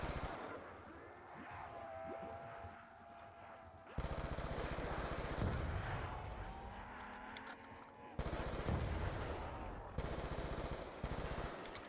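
Rapid automatic gunfire from Black Ops 2 Zombies bursts in loud, dense volleys that cut in and out abruptly, with game sounds swirling between bursts.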